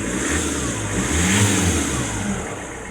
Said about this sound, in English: Engine speed going up, the fuel rail matches the pattern of the engine speed.